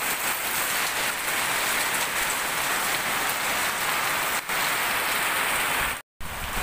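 Heavy rain pours down steadily in a windstorm, a loud dense hiss of drops drumming on surfaces, broken only by a brief dropout near the end.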